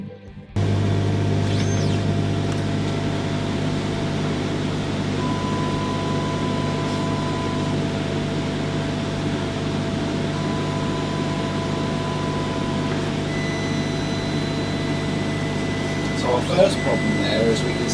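A Full Spectrum Muse laser cutter runs with a steady low hum of fans and air assist, punctuated by faint tonal whines as the head moves, continuous and close.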